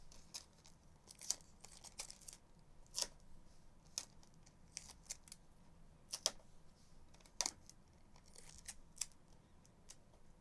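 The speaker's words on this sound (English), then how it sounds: "I need to cut myself some more tape here." Packing tape is torn and cut while a doll is boxed for shipping, giving a handful of sharp, close snips and crinkly rips scattered over quiet room tone.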